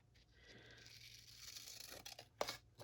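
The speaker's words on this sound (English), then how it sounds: "And then use my big girl scissors." Scissors trimming paper for a stamped Christmas advent calendar craft, a soft close cutting and tearing rasp that builds over a few seconds and ends with sharper snips, faint and alone.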